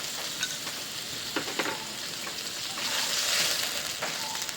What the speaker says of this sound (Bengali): দিয়ে দিলাম জিরার গুঁড়া, দিয়ে দিলাম একটু আদা রসুন জিরা বাটা